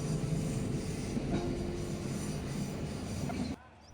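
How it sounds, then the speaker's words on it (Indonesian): The Serayu passenger train rumbles across an old bridge, iron wheels thudding and rattling against the steel structure in a dense, loud roar that cuts off abruptly near the end. "Dentuman roda besi bersahutan dengan gema dari struktur jembatan, menciptakan irama yang khas"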